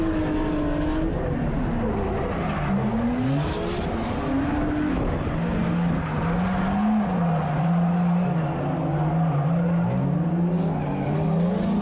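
A 1JZ-powered Nissan S13 drift car laps the track, its engine droning and rising in pitch as it revs, with tire squeal and skidding layered over a constant roar, heard from nearby.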